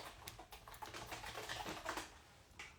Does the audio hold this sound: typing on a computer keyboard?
yes